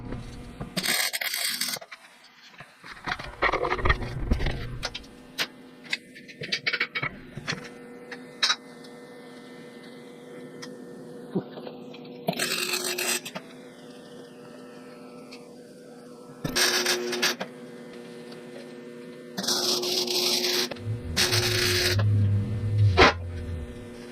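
Tack welds joining a replacement bumper on a 2003-2006 Chevrolet Silverado truck: several short, sharp crackling bursts spaced apart, with quieter shop noise between them.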